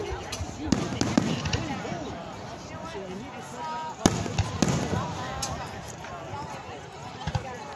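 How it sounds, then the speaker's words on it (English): Sharp bangs and crackling pops of fireworks burst out several times, fairly close, on fireworks night, with children chattering and talking over them throughout. "Because it's going up and it's exploding, and explosions makes a sound."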